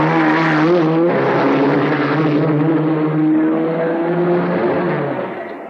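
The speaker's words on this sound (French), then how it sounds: "les mêmes bolides repassent pendant quelques secondes" Racing cars at the 1966 Le Mans 24 Hours roar past at around 320 km/h on the straight, a loud sustained engine drone with shifting pitch that fades slightly toward the end.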